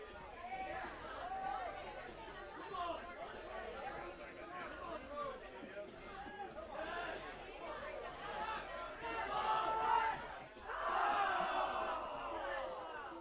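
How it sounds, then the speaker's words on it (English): Teammates shout encouragement and cheer for a climber at an indoor bouldering competition at a rock gym, a busy crowd of overlapping voices rising in louder bursts near the end. "You could hear his teammates cheering him on."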